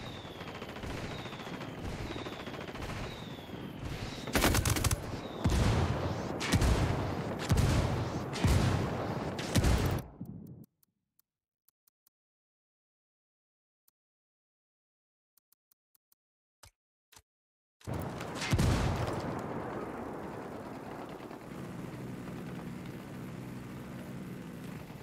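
Rebels' indirect fire in Ghost Recon Wildlands lands as a steady series of loud, evenly spaced blasts over sustained gunfire, then near-silence, before a heavy rumbling impact returns and fades into a low drone.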